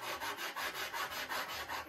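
Rapid back-and-forth sanding of a wooden tail wheel platform on a model P-40E Warhawk airplane, close and steady, with about eight rasping strokes in under two seconds and no voices.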